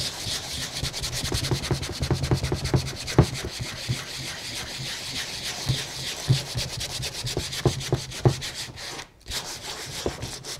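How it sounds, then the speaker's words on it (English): Rhythmic scratchy rubbing of sandpaper on painted reclaimed wood, close and fairly loud, with repeated strokes and a brief pause near the end. "Let's keep sanding this one and see what happens."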